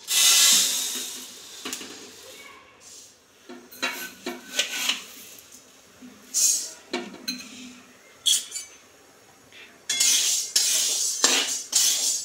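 Sorghum grains dry-roasting in a pan, stirred with a metal spoon that scrapes and clinks against the pan in irregular bursts, loud and close with a steady rustle of grains between the strokes.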